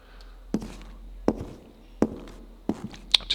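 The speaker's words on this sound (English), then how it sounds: "But it's a footstep." Footsteps from an Unreal Engine 4 audio cue sound as four evenly spaced, crisp, close thuds on a hard surface, followed by a couple of lighter taps, against near silence.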